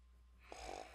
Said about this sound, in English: someone's snoring in my ear